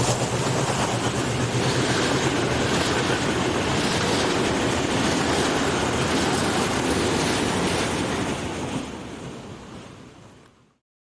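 A Portuguese diesel locomotive hauls empty cement wagons toward Gaia at Parla, a broad steady rumble and rush of passing train that holds loud for several seconds, then fades away at the end.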